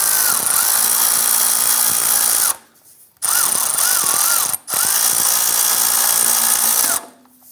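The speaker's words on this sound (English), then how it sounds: "use our impact gun on the outside to loosen and remove that nut" Impact gun loosening and removing a front upper control arm nut on a 1997-2006 Jeep Wrangler, loud close rattling bursts in three long runs separated by short pauses.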